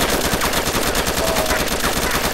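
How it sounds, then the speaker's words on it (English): Rapid automatic gunfire in a video game as a 60-round magazine is emptied, a loud continuous stream of closely spaced shots with no pauses. "I just what unloaded just... a 60 mag into John"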